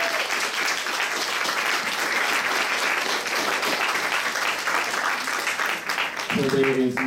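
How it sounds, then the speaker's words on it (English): Sustained audience applause for the panelists of a discussion on dismantling the prison industrial complex, steady and dense throughout, with a low voice beginning to speak near the end. "let's give our panelists one more round of applause"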